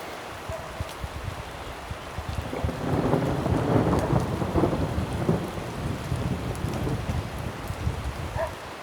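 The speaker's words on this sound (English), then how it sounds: "The rain's back. It comes so fast and comes down so hard." Heavy rain pours down around a rock slide outdoors, a dense, loud hiss that swells midway with low rumbling like distant thunder, with no voices.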